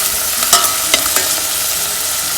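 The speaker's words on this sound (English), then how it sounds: "cloves and cardamom pods and nicely saute this" Whole cloves and cardamom pods sizzle in hot oil in a pan, a steady frying hiss broken by a few sharp stirring scrapes, close and fairly loud, with no voices.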